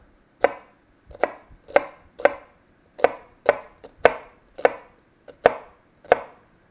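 A knife chops an onion on a board in about eleven sharp, crisp strokes at an uneven but steady pace, close and clear with no talk.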